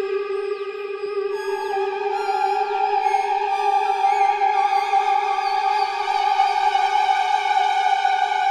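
An eerie Behringer Neutron synthesizer drone holds layered sustained tones with warbling, sweeping overtones that waver and shift, loud and unbroken.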